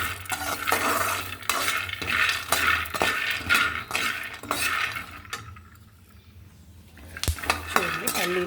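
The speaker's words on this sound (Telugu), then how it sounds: "ధనియాలు, పల్లీలు కూడా వేసి వేయించుకుంటానండి." Peanuts and coriander seeds are dry-roasted in a pan, with a spoon scraping and clanking against the metal in repeated strokes, close up; a short lull comes before the stirring resumes.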